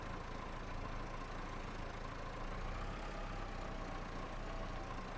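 A Massey Ferguson tractor engine drones steadily at a constant low rumble in Farming Simulator 25, heard alone with no talk.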